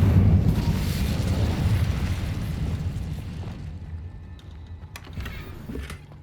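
An Incendio fire spell cast in Hogwarts Legacy sends out a loud, roaring whoosh of flame that swells at once and then fades into a softer crackling rumble, with a few faint clicks toward the end.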